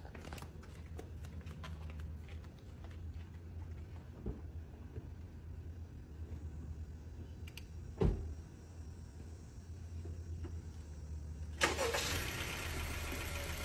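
A car engine cranks and catches after being hooked to a portable jump starter, then settles into a steady low idle close by, with a few clicks and a brief rattle along the way and a brighter rush of noise near the end.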